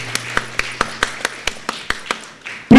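A congregation at a Kankipadu parish gathering claps loudly in steady unison, about ten sharp beats evenly spaced, ending in a sudden louder burst of noise.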